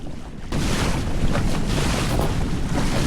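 An ILCA dinghy racing through waves off Mallorca, with loud wind buffeting the microphone and continuous rushing water and spray, growing stronger after a brief quieter start.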